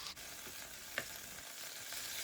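Meat simmers in oil in a frying pan, giving a constant, dense hiss of sizzling with one brief clink partway through and no voices.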